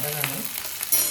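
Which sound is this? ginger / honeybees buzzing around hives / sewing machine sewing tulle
ginger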